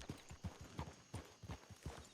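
Horse hooves clip-clopping in a ranch roleplay video game, a steady run of close, crisp hoof strikes in an uneven walking rhythm, heard alone without talk.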